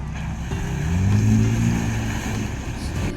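A 2nd Gen Toyota Tacoma exhaust with cutouts open gives a loud, deep, continuous rumble that swells and falls back slightly as the engine revs over a few seconds.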